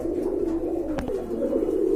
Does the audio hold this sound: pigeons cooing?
yes